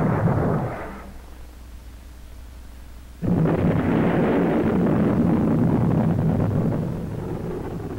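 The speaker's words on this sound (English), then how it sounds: "A live Polaris missile is launched from the USS Observation Island." Polaris ballistic missile launched from the ship USS Observation Island: a muffled rumble, then a sudden loud roaring blast that holds steady for several seconds before easing slightly, with no talk.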